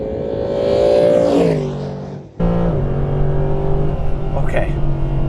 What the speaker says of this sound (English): Oh, exhaust crackles too.